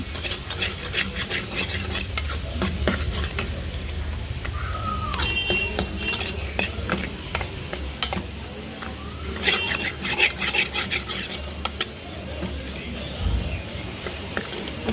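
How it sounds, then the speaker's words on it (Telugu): Egg pasta curry stirred in a pan with chilli powder, salt and turmeric, steady scraping and clinking of a spoon against the pan over a soft sizzle and hiss, close by, with no talking. "మొత్తం ఈ విధంగా కలిపేసుకొని దీంట్లో కారం ఉప్పు సాల్ట్ పసుపు వేసుకున్నాం"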